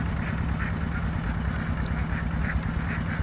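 A large flock of herded field ducks quacks continuously in a dense, busy chorus as they return to a canal, close and steady throughout.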